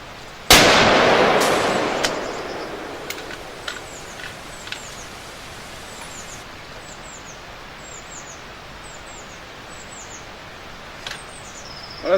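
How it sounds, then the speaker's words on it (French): Tits calling around a rifle shooting range, their short high chirps coming in scattered bursts after a loud opening bang that rings and fades, with steady outdoor background noise. "ce que vous entendez, ce sont mes mésanges"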